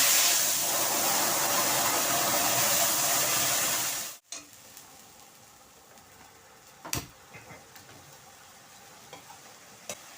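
Tomato paste hits hot oil seasoned with cumin and asafoetida, a loud, dense sizzle that runs for about four seconds and then cuts off abruptly, leaving quiet stirring clicks and a soft background hiss.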